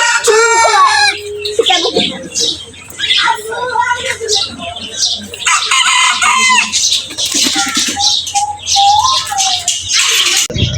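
Chickens cluck in short repeated bursts while a rooster crows loudly nearby, the birds sounding close and busy with people talking over them at times.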